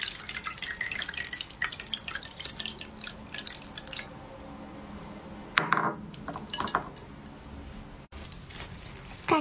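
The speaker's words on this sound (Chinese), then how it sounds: "最好用这个滤网给它滤一下。" Beaten egg mixed with warm water drips and trickles through a fine sieve into a clean bowl, a steady close patter broken by a few light clinks of utensils against the dish.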